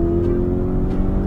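A Lamborghini engine revs hard and steadily, a loud, close, sustained drone with strong low harmonics and no break across the short stretch.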